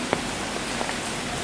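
Rain falls steadily during a storm in the woods, a constant close hiss with a few distinct drops ticking on a surface.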